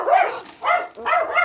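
A dog barks three times close by, loud sharp woofs with short pauses between them.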